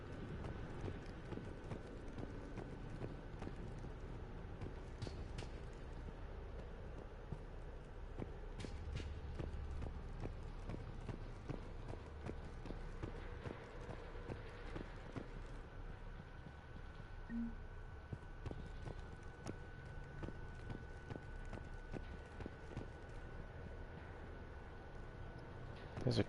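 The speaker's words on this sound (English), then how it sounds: "I think I actually heard footsteps." Steady footsteps tread continuously in the Mass Effect 3 video game, with rapid, regular impacts that sound hoof-like and run unbroken over a constant ambient bed.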